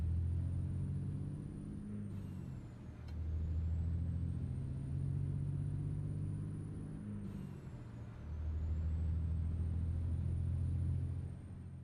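A heavy truck and trailer near 90,000 pounds drives in a trucking video game, its low diesel engine rumbling steadily and swelling through gear changes, with a hiss of air brakes between.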